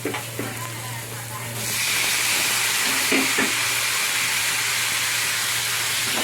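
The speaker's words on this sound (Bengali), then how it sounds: "ভালো করে ভেজে নিচ্ছি" Long strips of bitter gourd and potato fry in oil in a covered pan, a steady, loud sizzle that rises sharply after a quieter start and continues evenly throughout.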